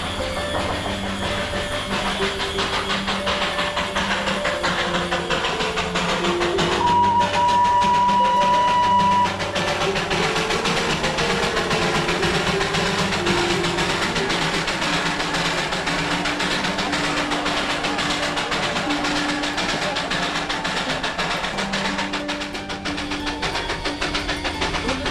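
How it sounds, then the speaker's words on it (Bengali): The Darjeeling Himalayan Railway toy train runs past on its mountain line with a steady, loud, close rumble and rattle of wheels and engine, and a brief tonal note partway through. "রেলওয়ের টয় ট্রেন।"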